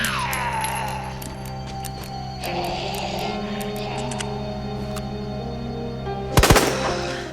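Gunfire from a handgun in the Resident Evil 2 remake, with a sharp, loud burst of shots near the end of the clip over a steady game soundscape of low hum and music.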